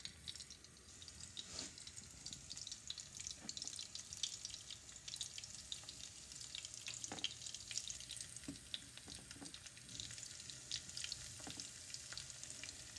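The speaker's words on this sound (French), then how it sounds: "Ça va frire rapidement." Fresh sardines fry in hot oil with a steady, close sizzle throughout, punctuated by occasional pops and faint scraping or stirring clicks.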